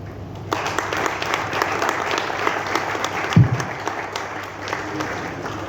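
An audience claps steadily in sustained applause, a dense patter of many hands with brief voices mixed in, including a short loud thump.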